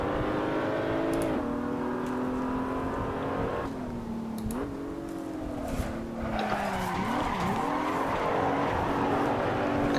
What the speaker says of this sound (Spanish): Dios, como suena ahí también el Z4 ahí berreando.